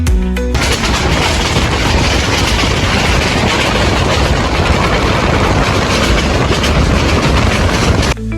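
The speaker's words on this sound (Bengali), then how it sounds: "আমাদের ট্রেন আবার ছেড়ে দিছে চট্টগ্রাম রেল স্টেশন থেকে।" A train pulling out of Chittagong railway station, a loud, steady, dense rumble of wheels and carriage noise that fills nearly the whole stretch before cutting off abruptly.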